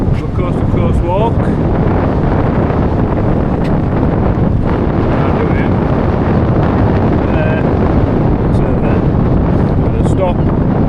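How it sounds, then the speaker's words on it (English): Loud, steady wind buffeting the microphone on the seafront, a constant broadband roar with faint higher sounds now and then. "It's a bit choppy today, it's a bit windy"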